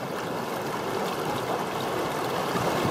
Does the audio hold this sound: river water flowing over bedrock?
yes